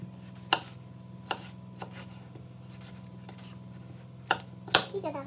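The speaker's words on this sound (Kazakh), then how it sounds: "Осылайынан турап аламыз қиярымызды" A knife cuts cucumber into thin strips on a board, giving a few sparse, crisp taps at irregular intervals over a steady low kitchen hum, with a quick cluster of cuts near the end.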